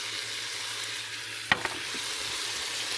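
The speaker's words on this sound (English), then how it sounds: "And we're going to mix that in." Codfish curry sizzles in an Instant Pot, a steady low hiss with a faint hum, as seasonings are stirred in with one sharp scrape and a softer clink midway.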